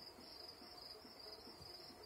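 Steady, high cricket chirping ambience from the Barnyard video game, a continuous pulsing trill that stays even and soft throughout with no voices.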